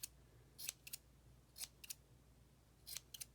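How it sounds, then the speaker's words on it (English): Scissors snipping yarn to trim a pom pom, quiet crisp cuts in small clusters of two or three with short pauses between, close up and otherwise nearly silent. "I'm going to trim, okay. Trim it down pretty good."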